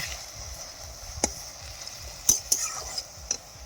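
Leafy greens stir-fry in a pan without water, a soft continuous sizzle broken by several sharp metallic clacks and scrapes of a spoon against the pan, close by and with no voices.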